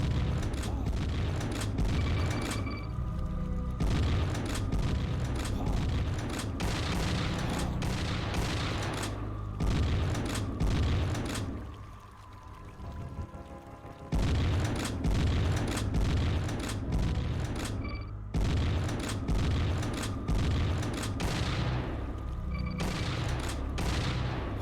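Rapid bursts of gunfire aimed at an eldritch abomination boss in the video game Shrine, dense and loud, broken by short pauses and one longer lull, with booming impacts mixed in.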